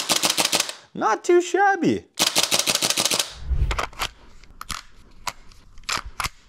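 An MW3-style airsoft rifle fires a series of sharp semi-automatic shots, each a crisp, close snap spaced irregularly, following a few seconds of someone talking.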